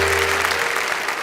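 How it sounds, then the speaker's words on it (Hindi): An audience claps in dense, steady applause to welcome a comedian onto a comedy show stage, with a faint hum underneath. "भाई जोरदार तालियों से स्वागत करें।"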